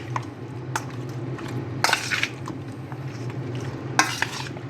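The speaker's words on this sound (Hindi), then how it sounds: "चलिए हम इसको मिक्स कर रहे हैं।" Wet, squelchy hand mixing of a chicken wing marinade in a bowl over a steady background hum, with a few louder squishing bursts, close by and without talk.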